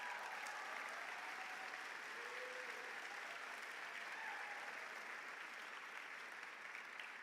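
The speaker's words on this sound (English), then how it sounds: "I want you all to give yourself a round of applause for all the work that you have done" Sustained applause from a conference audience at a Palestine solidarity gathering, a steady dense clapping that holds evenly throughout without pause or talk.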